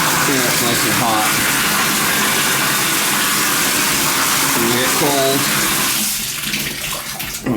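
Water runs steadily from a Symmons tub shower valve being repaired for a drip, a loud continuous gush filling the clip, with a voice speaking over it and the flow easing near the end.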